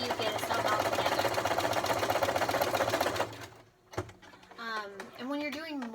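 A sewing machine rattles fast and loud through fabric for mask-making, running for about three seconds before stopping with a clunk. Someone then starts talking.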